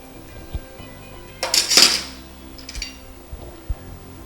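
Vegetable biryani is stirred in a metal pot, with a few light scrapes and taps of a utensil and one loud cluster of clanks and clinks in the middle, against a quiet background.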